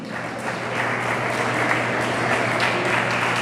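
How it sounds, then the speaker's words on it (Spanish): Church congregation applauding, a steady burst of many hands clapping that swells slightly and continues throughout, heard alone. "Puede tomar asiento dando un fuerte aplauso al Señor."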